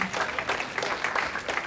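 A congregation claps during a church service, a brief burst of fairly faint, dense hand clapping with a steady, slightly rhythmic texture and no clear voices over it.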